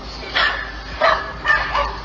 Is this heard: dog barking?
yes